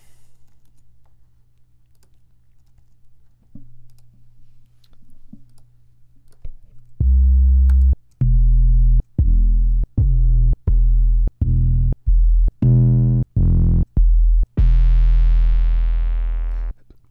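After a few quiet seconds, a run of loud, deep booming 808 bass drum hits lands in a steady rhythm, each one sustained and ending in a long final boom.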